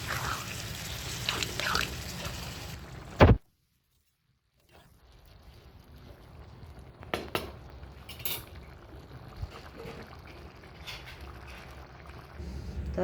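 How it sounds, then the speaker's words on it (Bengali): A little water poured into a prawn and ridge gourd curry makes a soft, steady splashing after a sharp clatter and a brief silence, with faint kitchen clinks. "আর দেবো একটু জল"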